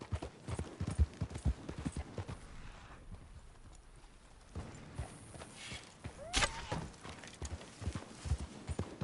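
Horse hooves clip-clop at a steady gait in the Red Dead video game, a run of close rhythmic thuds broken by a short quieter stretch, with a brief whinny and faint rumble mixed in.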